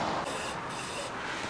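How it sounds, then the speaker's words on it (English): Mass airflow sensor cleaner sprays from an aerosol can in one steady continuous hiss, close and fairly loud, on a Nissan 370Z. "Mass airflow sensor cleaner, and just spray it."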